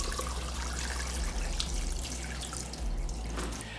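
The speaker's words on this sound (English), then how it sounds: "now we're gonna add the water to fill it up about an inch below the top line" Water is poured from a container into a pot for bone broth, making a continuous splashing trickle with a low rumbling base, close and steady throughout, with no talk.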